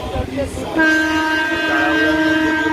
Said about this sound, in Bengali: প্রত্যেকদিন ট্রেনের যাত্রা